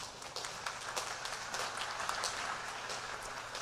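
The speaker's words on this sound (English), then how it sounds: "round of applause" A crowd at a school scholarship night gives a round of applause for school administrators, a faint, distant wash of clapping that holds steady for a few seconds.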